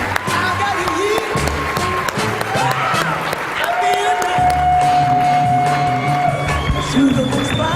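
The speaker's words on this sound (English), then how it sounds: "give Danielle a big, big, big round of applause" An audience at a ViSalus event claps and cheers loudly, with whoops over steady applause. An amplified voice and music carry through the crowd noise.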